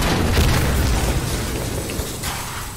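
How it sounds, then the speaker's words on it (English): A grenade blast in the shooter Insurgency: Sandstorm, a loud low boom at the start that rumbles and slowly decays, with rattling debris and faint battlefield noise trailing behind. "That's a grenade."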